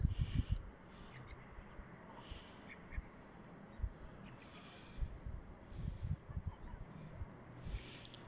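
Female blackbirds calling from down below outdoors in the evening, a few faint, sparse chirps and clucks scattered over low background rumble.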